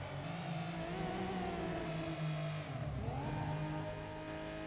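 A 2000 Porsche 911 Turbo in a racing video game revs hard, engine pitch climbing, dipping briefly near the end and climbing again in a steady, moderately loud whine.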